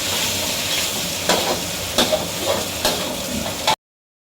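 Pork stir-fried in a pan for Thai pad see ew, a steady loud sizzle with sharper scraping stirs landing at irregular intervals before cutting off abruptly.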